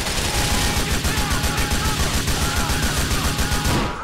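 Heavy, sustained gunfire in the video game GTA IV: The Lost and Damned, a loud rapid stream of shots that runs throughout with little pause, then drops away at the very end.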